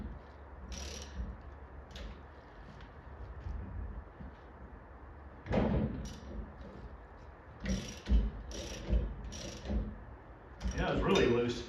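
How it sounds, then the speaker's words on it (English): A hand socket ratchet tightens a loose nut on a 1959 Chevy Impala convertible, making faint clicks and scattered scraping knocks in a quiet space, with a few louder mechanical clatters near the end. "So I'm going to grab a socket and tighten that nut up."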